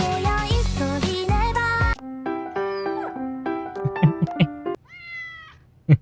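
Cartoonish cat meows and yipping, whimpering dog sounds from the video game Fork Road play after a burst of bright game music, then a final rising meow, all clear and near.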